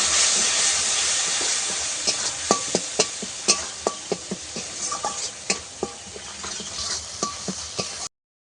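Turmeric, coriander powder and whole chilies with chili water sizzle in a pan for a churi fish curry, under a steady frying hiss broken by repeated clinks and scrapes of a stirring spoon, close and clear.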